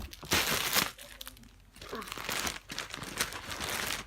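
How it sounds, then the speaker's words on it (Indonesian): Plastic packaging around a squishy toy crinkles and crackles loudly as it is cut open with scissors, coming in close, rough bursts with brief pauses. "soalnya ada suara plastik ya"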